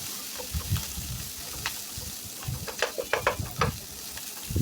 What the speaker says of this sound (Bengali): এখন দিয়ে দিচ্ছি কাঁচামরিচ পেঁয়াজ একসাথে আমি দিয়ে দিচ্ছি তেল গরম হয়ে আসার পর তারপর একটু নেড়ে চেড়ে বেজে নিব